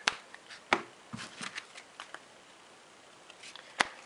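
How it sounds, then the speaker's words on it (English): A deck of playing cards is shuffled and cut by hand during a card trick, with faint, sparse riffles and soft taps in quiet close surroundings, no talk. "cover it up, shuffle it, same over here"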